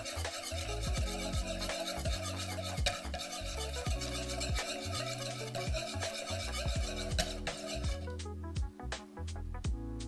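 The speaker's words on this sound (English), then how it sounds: "take your whisk and just mix it" Batter is whisked by hand in a bowl, a continuous close rasping scrape with quick rhythmic strokes, giving way near the end to a run of sharp rapid taps.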